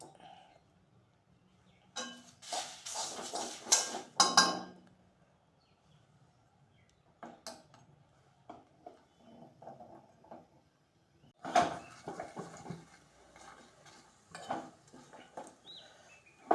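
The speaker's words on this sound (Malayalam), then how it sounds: "ഈ കായ ഒന്ന് വറുത്തെടുക്കണം." Asafoetida is roasted in a pan while preparing Malayalam-style sambar powder, heard as quiet, intermittent bursts of stirring, scraping and light metallic clinks separated by near silence.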